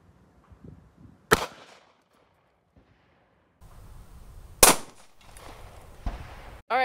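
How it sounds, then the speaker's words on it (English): Two sharp gunshots from precision target shooting ring out a few seconds apart, each with a short decaying tail, over faint outdoor background. "So I'm going to shoot a couple times."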